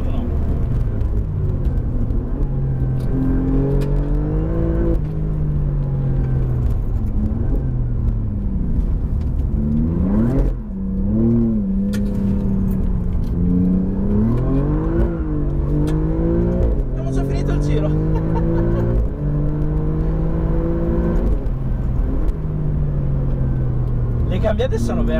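An Alfa Romeo Giulia GTA accelerating hard in race mode: the engine note climbs in pitch again and again, broken by abrupt drops at each quick, crisp gear shift, loud and close throughout.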